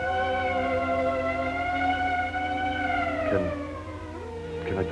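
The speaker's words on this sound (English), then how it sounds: "The ambulance." Ambulance siren wailing loud and steady in a 1939 comedy film, its tone holding high and then sliding down in pitch near the end.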